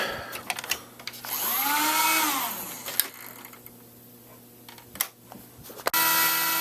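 Small 20mm computer fans in a Dell GX620 whir up with a rising, high-pitched whine that holds steadily, then drop and restart, with occasional clicks and bumps nearby.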